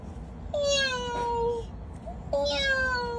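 A cat meows twice, close and clear: a long, falling meow followed after a short pause by a second, similar one.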